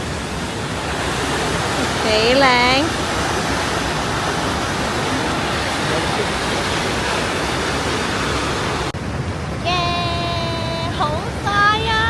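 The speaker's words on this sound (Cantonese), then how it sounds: "我哋首先可以睇到呢度係佢嘅瀑布咯" The waterfall at Neuschwanstein Castle roars as a loud, steady rush of broadband noise throughout, while people talk briefly over it.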